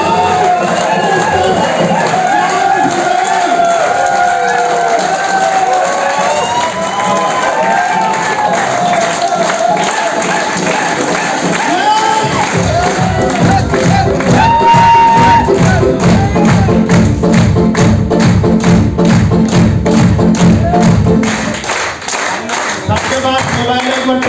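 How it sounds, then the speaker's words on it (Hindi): Large audience at a training event claps and cheers loudly, the noise turning into a strong, steady rhythmic group clap with a thumping beat midway, then tapering at the end. "आपकी जोरदार तालियों के बीच होती"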